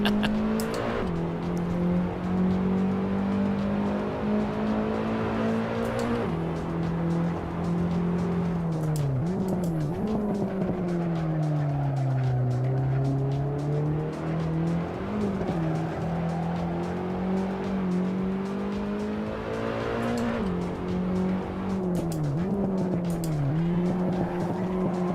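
A race car in Assetto Corsa Evo slides sideways with a sustained tire squeal over a loud, wavering engine note that rises and dips through repeated drifts, with no talking.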